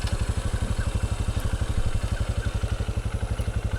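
A motorcycle engine idling up close, a rapid, steady low thumping pulse that holds evenly throughout.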